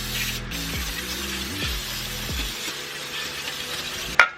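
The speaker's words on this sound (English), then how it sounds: "try to clean up some of this power steering fluid spill with some brake clean" Brake cleaner sprayed from an aerosol can onto a power steering fluid spill in a car shop, a steady close hiss running several seconds beneath low mechanical hum, ending with a sharp clack.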